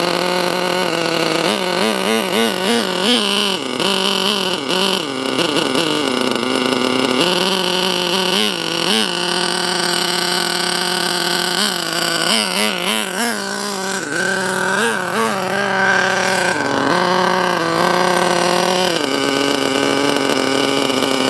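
A 1/8 scale Ofna nitro RC monster truck engine runs continuously and loudly up close, its high buzzing pitch wavering and rising with repeated throttle blips, with no voices over it.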